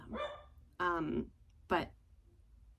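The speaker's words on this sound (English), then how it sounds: "I apologize for my dogs if you can hear" Dogs bark indoors in three short, distinct bursts, fairly close and moderately loud, with a brief spoken word heard between them.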